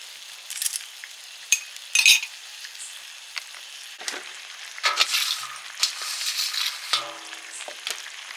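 Fried rice sizzling in a pan after cornflour water is poured in, with intermittent stirring scrapes and metallic clinks of a spatula, close up and with no speech.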